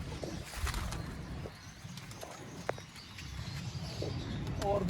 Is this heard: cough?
no